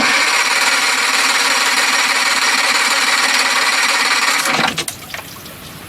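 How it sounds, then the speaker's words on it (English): A 60 HP Johnson outboard motor with no spark cranks without starting: a loud, steady mechanical whir runs for about four and a half seconds, then cuts off abruptly and leaves faint rattles. "The motor is cranking, but not starting still."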